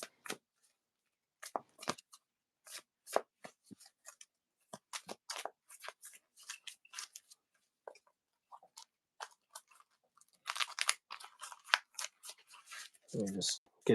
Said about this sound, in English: shuffle this deck better.